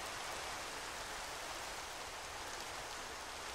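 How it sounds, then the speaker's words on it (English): Steady rain hisses as an even, broadband wash in the video game Minecraft, continuous and moderately loud with no talk. "And it's raining."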